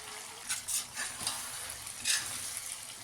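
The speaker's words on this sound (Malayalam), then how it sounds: "വേവിച്ച് വെച്ച ബീഫിനെ മുഴുവനായിട്ടൊന്ന് പൊരിച്ചെടുക്കണം" Precooked beef frying in coconut oil in a large pan for beef pickle, a steady sizzle with a few louder bursts as the pieces are stirred, close and alone without talk.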